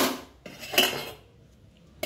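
A lid set onto a cooking pot of chicken khichuri simmering over low-medium heat, giving a few close metallic clinks and a brief clatter, then quiet.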